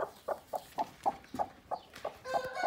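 A broody hen being settled onto a clutch of eggs gives a regular series of short clucks, about ten evenly spaced calls, close and clear over faint background noise.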